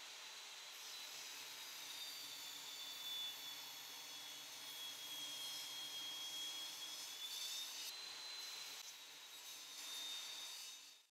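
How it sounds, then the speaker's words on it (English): A table saw cuts steadily through a piece of reclaimed wood, a continuous high whining rip with the blade pitch wavering slightly, running for about ten seconds before cutting off, heard alone without talk. "Here at the table saw, I'll cut this piece on both sides to clean it up"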